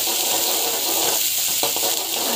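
Onions fry in a hot pan, giving a loud, continuous sizzle close by, with a few soft stirring scrapes near the end and no talking.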